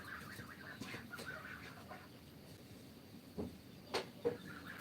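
A farmyard hen clucking nearby, a few short scattered clucks and calls over quiet outdoor ambience, with sharper squawks toward the end.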